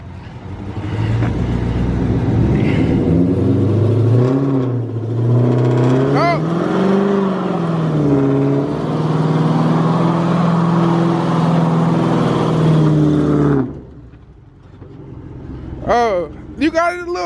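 Car engine revving hard during a burnout attempt on 275 tires, a loud, sustained, strained roar that rises and wavers for about thirteen seconds, then cuts off, followed by quieter rumbling and short bursts, with people talking close by.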